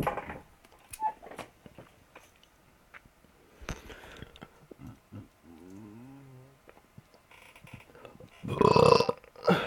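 A bonus burp closes out a freestyle rap recording: a loud, brief belch bursts out near the end, after quiet shuffling and a short voiced sound.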